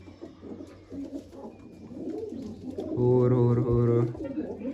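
Pigeons, male and female, cooing together in a loft with a steady low rolling coo that swells louder near the end, amid background voices and shuffling.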